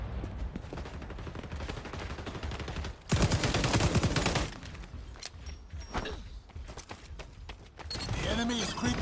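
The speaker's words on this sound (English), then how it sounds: "Did you see gunshots coming from in there?" Gunfire in the shooter game XDefiant crackles in bursts, a dense loud volley in the middle and scattered sharper shots around it, with game sounds and a voice talking over parts.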